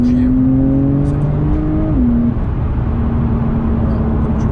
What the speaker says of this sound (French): le moteur flat 6 de chez Porsche couplé à la PDK, c'est une orgie